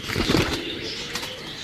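Racing pigeons belonging to a fancier from Kasur flap their wings in flight, a short close burst of fluttering at the start that fades into softer rustling, with no talk.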